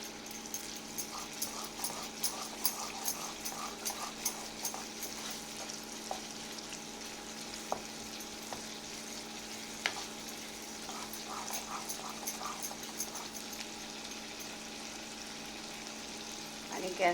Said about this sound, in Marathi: ओलावा जाईपर्यंत तेल सुटेपर्यंत त्याला चांगलं फ्राय करून घ्यायचं